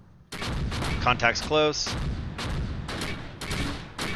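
A mortar barrage falling in the video game Close Combat, with repeated booming impacts and crackling blasts layered over continuous battle noise, and a voice speaking briefly over it.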